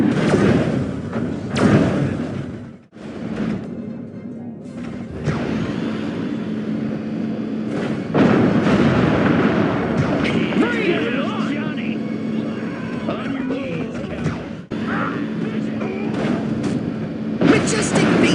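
In Destroy All Humans! Reprobed, a Majestic base blows apart in a series of heavy booming explosions and thuds, with rumbling debris and sustained crackling blasts that continue for many seconds.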